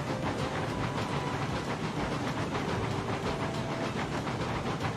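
Steam locomotives rolling along in the train game Railroads Online, a steady, close rumbling hiss with faint rhythmic clatter and a brief whistle-like tone, continuous throughout with no talking.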